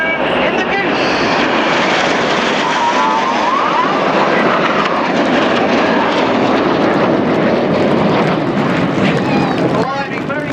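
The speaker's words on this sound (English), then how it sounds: "Now look to the left hand side, here comes a lone jet." A lone Red Arrows jet roars past at the Yeovilton air show, a loud continuous broadband engine rush filling the scene, with a commentator talking over it throughout.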